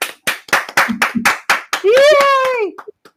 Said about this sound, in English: can we have a big round of applause for Linda Williams?